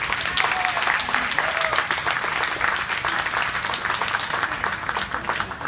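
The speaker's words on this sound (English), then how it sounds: "Please, one more time, round of applause for the girls." Audience applause for a group of dancing girls at an Armenian cultural event: loud, dense clapping from a large crowd, sustained and even throughout.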